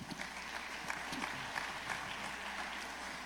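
Steady clapping from a large church congregation, continuous and fairly distant, filling the whole stretch with dense patter.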